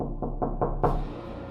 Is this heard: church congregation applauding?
no